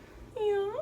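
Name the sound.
cat Lily meowing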